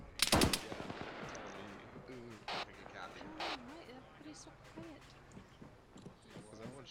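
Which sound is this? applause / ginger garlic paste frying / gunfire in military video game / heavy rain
gunfire in military video game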